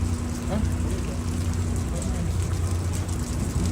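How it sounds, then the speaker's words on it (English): Steady rain hisses continuously outdoors, a broad, even wash of sound with a low rumble beneath and a faint constant hum, with voices talking over it. "Yes, it's raining out"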